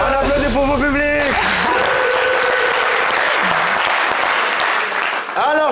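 A TV studio audience bursts into loud, sustained applause that runs the full length, with a voice and some musical tones over the clapping at the start.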